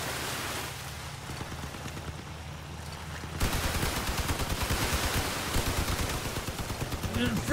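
Machine guns on a Crossout combat vehicle open up after a quieter engine rumble, firing a long, rapid, continuous stream of loud rattling shots.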